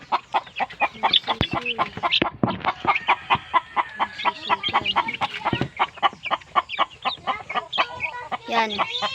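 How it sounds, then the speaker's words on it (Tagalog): Several backyard chickens cluck in quick, choppy bursts close by, a steady run of short calls with a person speaking faintly in between. "may maliliit din kaming mga manok dito"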